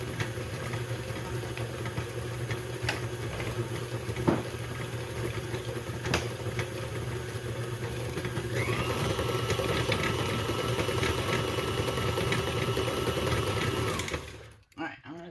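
An electric mixer churns chocolate chip cookie dough with a steady motor whir that grows louder partway through and then stops, with some faint clatter in the background.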